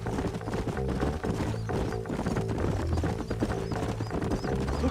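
Horse hooves clip-clop in a steady, busy rhythm in a video game, several horses close by with a faint whinny amid ambient game sound.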